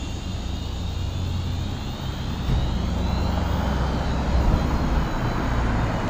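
A Syma X5C-1 beginner quadcopter hovers outdoors in wind, its steady motor whine partly buried under continuous low wind rumble for several seconds.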